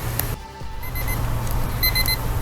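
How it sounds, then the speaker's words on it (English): A kitchen timer alarm goes off indoors with steady repeated high electronic beeps in short bursts over a continuous low hum, no voices. "the timer's going off"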